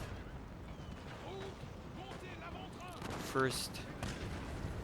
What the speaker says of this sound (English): My first gunfight here of the battle.